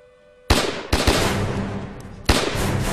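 Gunfire in a war drama battle scene: a loud burst opens after a short quiet, followed by sustained rattling automatic fire with further sharp cracks at about one and two seconds; no talk.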